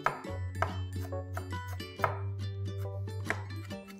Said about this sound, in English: Snip off the stalks and cut this as finely as you can.